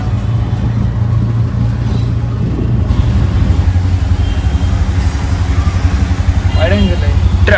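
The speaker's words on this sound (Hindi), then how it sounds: "ट्रैफिक" Dense road traffic near Connaught Place in Delhi, with car and motorcycle engines droning steadily and loudly close by, a continuous low rumble and faint voices beneath.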